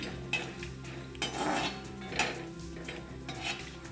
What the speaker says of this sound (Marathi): खोबऱ्याचे काप घेऊया आवडीनुसार लालसर परतून घ्यायचे